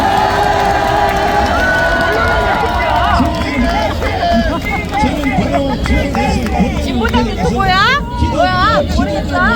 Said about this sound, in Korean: 우리 뜨거운 감사의 박수를 보내겠습니다